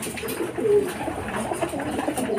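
Racing pigeons at a loft coo softly and close by, with faint scattered bird calls over a quiet background.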